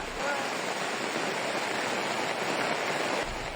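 Muddy floodwater rushing past residents wading toward a damaged suspension bridge in Antique, a dense steady roar of churning water, loud and unbroken throughout.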